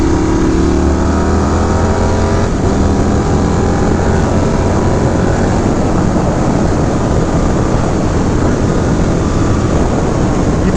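An Indian Scout Bobber motorcycle engine drones loudly and continuously with heavy wind rush, its pitch shifting slightly as it revs.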